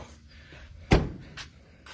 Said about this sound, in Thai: โอเคปิดประตู